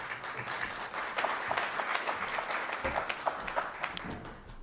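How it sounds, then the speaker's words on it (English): Colleagues at a conference give a round of applause, a fairly faint, even patter of many hands clapping together, with a few sharper claps standing out. "Another round of applause, colleagues."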